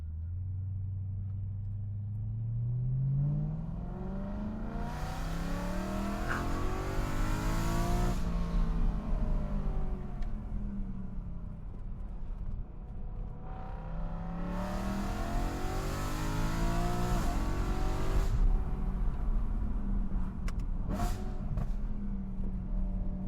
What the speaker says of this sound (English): That backfire sounds pretty good.